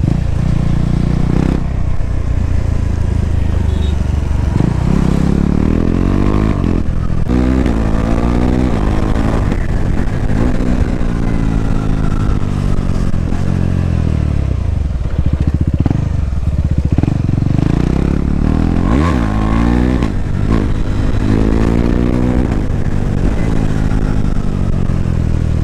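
A modified KTM Duke 390 BS6 motorcycle engine, loud and close, revving up and dropping back through several cycles with a rough, throaty exhaust note that rises and falls in pitch.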